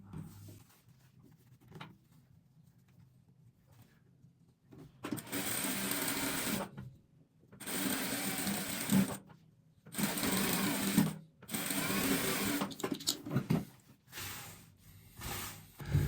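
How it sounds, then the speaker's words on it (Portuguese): Sewing machine stitching quilt blocks together for a 3D single bedspread, running in several sustained bursts separated by short pauses, close and steady, with quiet handling noise between runs. "E passa uma costura."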